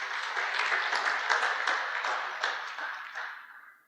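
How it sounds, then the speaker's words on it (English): Audience applause at a no-till farming club conference, greeting the winner of a yield category: dense, steady clapping that stays loud for a few seconds and then thins out and fades toward the end. "So let's give him a nice round of applause."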